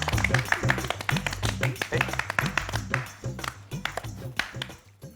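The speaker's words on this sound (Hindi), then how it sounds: "अरे ताली बजाओ" Several people clapping at a ring-giving scene in a comedy sketch, rhythmic rapid claps throughout, with voices and background music underneath.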